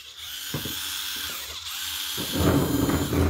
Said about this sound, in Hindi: ये बन गई ड्रिल